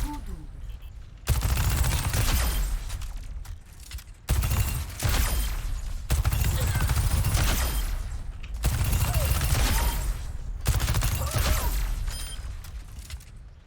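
Sojourn's electric railgun in Overwatch 2 fires in several loud bursts of rapid shots separated by brief pauses, mechanical clanks between volleys, close and dominant.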